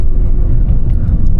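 An Alfa Romeo Giulia with a 2.0T engine downshifts on a road, heard from inside as a loud, dense low rumble that stays steady and close throughout.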